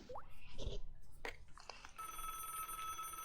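Telephone ringing on a call in the Broken Sword adventure game, a steady electronic ring that starts midway after some clicks and rustles and continues to the end, moderately loud.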